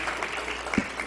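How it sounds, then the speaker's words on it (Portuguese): An audience at a spiritist talk claps enthusiastically, a continuous moderate patter of many hands with one louder nearby thump near the end. "palmas efusivas"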